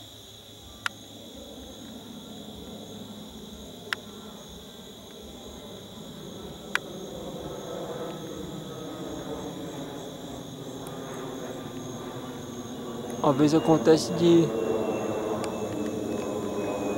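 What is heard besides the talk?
airplane climbing after takeoff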